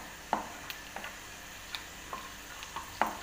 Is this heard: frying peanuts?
yes